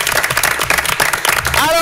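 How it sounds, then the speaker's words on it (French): A crowd at a lycée school event in Saint Alphonse applauds loudly as a team arrives, a dense wash of clapping with voices and cheers mixed in, and a rising whistle-like tone near the end. "on va applaudir très fort l'arrivée de toute l'équipe"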